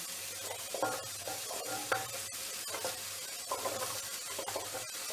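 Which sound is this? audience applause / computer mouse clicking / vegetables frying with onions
vegetables frying with onions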